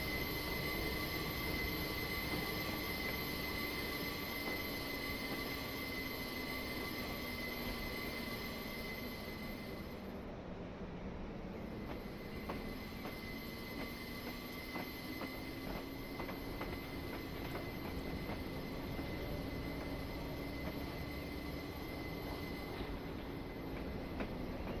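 A train on the Falmouth Branch coasting with throttle used as a brake, its wheels squealing steadily over a continuous rumble, with a slowly wavering engine tone and faint metallic clicks throughout.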